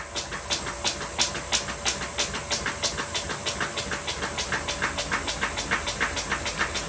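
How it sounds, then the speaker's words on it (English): Electric motor of a Fay and Egan pattern lathe spinning up under variable-frequency drive control, a steady mechanical drone with a rapid, even pulsing rhythm and a constant high whine, moderately loud and close, no talk. "if you can listen to the sound of the motor increasing in RPM over there"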